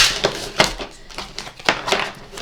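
Tarot cards being shuffled by hand during a reading, giving a series of close, crisp riffling bursts in an irregular rhythm, about six flurries with short pauses between them and no talk.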